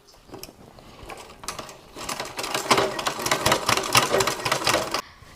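A sewing machine stitches lace onto an item made from old sarees, starting with short bursts, then running in a steady, close mechanical whir and clatter that stops abruptly near the end.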